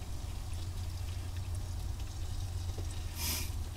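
Engine oil drains from a Kubota KX040-4 excavator in a steady, faint pouring trickle over a low background hum, with no talk.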